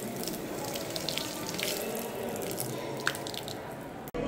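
Water runs steadily from taps along the walls of a mosque in Casablanca, a soft continuous splashing and trickling with faint drips and a brief click near the end.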